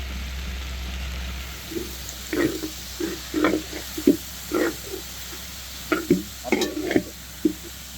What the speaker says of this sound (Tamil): நம்ம இஞ்சி பூண்டை சேர்க்கணும் அது முடிக்க நம்ம வதக்கிக்கிட்டே இருக்கணும்